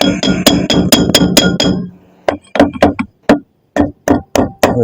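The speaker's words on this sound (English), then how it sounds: "I had to use a punch and hit it in that way." A hammer strikes a metal punch against a brake part on a 1937 Chrysler Royal during a brake overhaul, a quick run of about eight sharp ringing blows, a brief pause, then more spaced metallic hits, close and loud.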